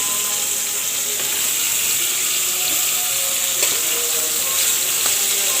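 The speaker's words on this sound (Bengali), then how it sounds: "অল্প তেলে ভেজে নিচ্ছি" Boneless fish pieces frying in a little oil, a steady close hiss and sizzle that continues evenly throughout, with occasional faint clicks and no talking.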